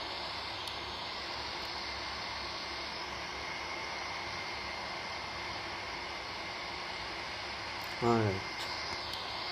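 Twin turboprop engines of an ATR72 idle in the game Real Flight Simulator, giving a steady, even drone with a whining hum. A brief bump of sound comes near the end, and a voice speaks briefly.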